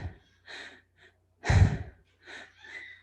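A person breathing in through the mouth and exhaling in a paced belly-and-chest pattern, heard as several soft airy breaths with one stronger, louder breath in the middle, close and with no talking.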